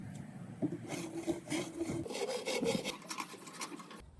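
Steady back-and-forth sawing rasps through a cardboard box, close and continuous for a few seconds before stopping abruptly.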